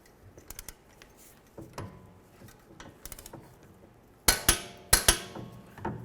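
A torque wrench tightens wheel hub bolts on a Ford Edge, faint metallic clicks and taps at first, then several sharp, loud clicks near the end, close by with no speech.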